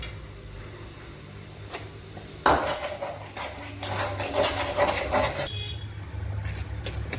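Lentil batter is scraped and poured from a pot onto an oiled plate: quiet at first, then a loud metallic scrape sets off several seconds of clattering spoon-on-metal scraping before it fades.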